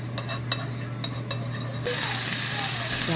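Vegetables sizzle in hot oil in a pan on a home stove as a spoon or spatula stirs them, with sharp scraping clicks at first, then a louder, steady frying hiss that swells up partway through.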